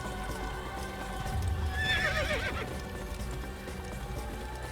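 A horse neighs loudly in the Assassin's Creed video game, its whinny rising above a steady clip-clop of hooves and a low background rumble, with no talking.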